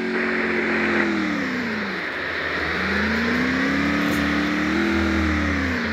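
Car engine driving in the Free Fire video game, a steady droning motor with pitch rising, dipping and climbing again as it revs, continuous and close with no talk over it.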